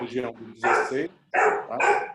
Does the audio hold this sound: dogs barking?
yes